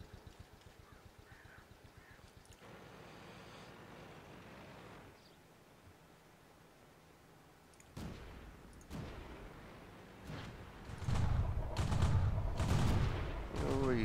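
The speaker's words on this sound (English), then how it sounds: "This guy's using a machine gun by the looks of it, I think. Just a rapid fire cannon." Rapid-fire tank cannon shots in the World of Tanks video game, a burst of loud repeated bangs in the last few seconds after a quieter stretch of engine rumble and ambient battle noise.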